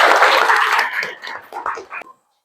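A school class claps together loudly, the applause thinning into a few scattered claps before ending.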